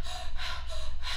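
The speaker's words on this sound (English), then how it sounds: "Some people might call this the breath of fire, or conscious connected breathing, or heart centered breathing." Rapid panting breath-of-fire breathing, quick forceful inhales and exhales repeating in a steady rhythm, close and fairly loud with no talking.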